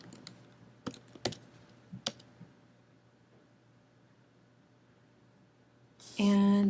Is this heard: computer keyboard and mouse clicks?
yes